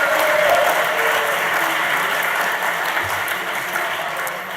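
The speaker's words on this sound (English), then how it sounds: "Everyone a big round of applause, Tom Cruise." An indoor audience at a live event breaks into a big round of applause. Dense, steady clapping fills the space throughout and fades slightly toward the end.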